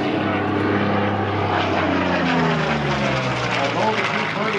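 A Curtiss P-40 fighter flies at the 2024 Boundary Bay Airshow, from the Erickson Aircraft Collection. Its loud, continuous piston-engine drone slowly shifts in pitch as the aircraft passes.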